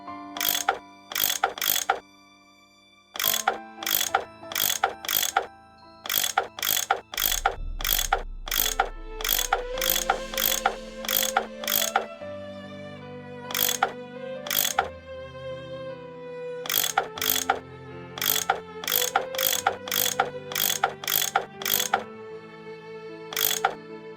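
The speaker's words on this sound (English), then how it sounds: "I bet that's what you use to unscrew these bolts." A tool unscrewing bolts in the Nancy Drew game Last Train to Blue Moon Canyon, heard as a loud, repeated ratcheting clatter with steady rhythmic clicks in quick bursts and short pauses, over a low droning background tone, with no talk.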